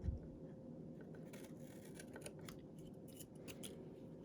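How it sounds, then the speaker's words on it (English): Scissors snip repeatedly through Easter basket decoration, a series of quiet, crisp cuts over a soft low hum with no talking. "So we're just going to trim this off like this."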